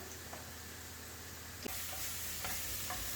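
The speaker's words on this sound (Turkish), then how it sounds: "Şimdi arkadaşlar şöyle baharatlı, yeşil biberli kıymamı koydum." Spiced minced meat with green peppers fries in a pan with a steady, faint sizzle, punctuated by a few soft stirring scrapes and clicks.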